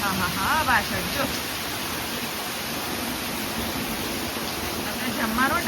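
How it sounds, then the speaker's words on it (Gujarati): Heavy monsoon rain pours steadily outside a cattle shed, a loud, even wash of rainfall with people speaking briefly over it. "જમવાનો ટાઈમ થયો ને વરસાદ આવ્યો"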